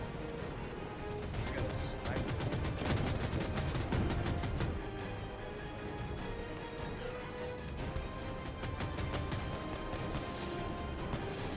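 Gunfire in Battlefield 2042, rapid automatic bursts and scattered shots over a constant din of battle, with players talking over it.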